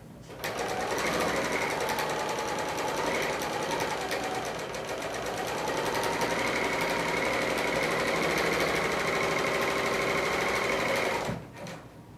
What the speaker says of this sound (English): is actually going to trim off all the selvage as I work as I sew this seam